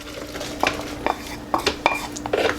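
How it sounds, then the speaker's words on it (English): Hot cooked aromatics for a creamy turmeric sauce are scraped and dumped from a pan into a food processor, giving several short clattering knocks and scrapes of utensil on cookware at close range, with no speech. "We're going to take it and dump it right into our food processor."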